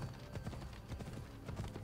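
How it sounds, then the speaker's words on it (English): Horse hooves clip-clopping in the video game Assassin's Creed Odyssey, a quiet rhythmic patter of hoofbeats at a steady gait, low in level and somewhat muffled. "there's my horse"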